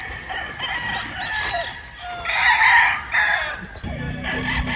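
A gray gamefowl rooster crows on a farm, a clear, loud call with rising harmonic bursts, joined by other fowl crowing and clucking nearby over a steady outdoor background.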